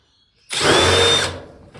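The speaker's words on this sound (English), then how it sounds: "Maybe I could hold the drill for you." Power drill backing screws out of a Samsung TV during disassembly, one loud close whir lasting under a second that starts abruptly and then winds down, with quiet before and after.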